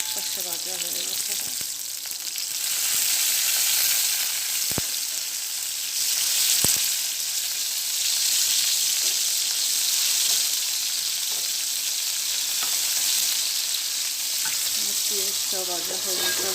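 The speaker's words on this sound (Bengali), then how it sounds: "পেঁয়াজটাও ভাজা হয়ে গেছে" Onions fry in a wok beside fish, a dense continuous sizzle up close, broken by scraping stirs and a couple of sharp utensil knocks, with faint murmuring at the edges.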